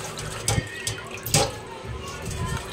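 Tap water runs steadily into a sink while meat is washed, with splashes and a couple of sharper bursts as the stream hits the meat.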